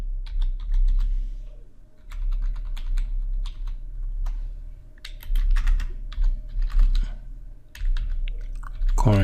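Close, steady typing on a computer keyboard entering a name into data software, with irregular bursts of key clicks and short pauses between them, no talking.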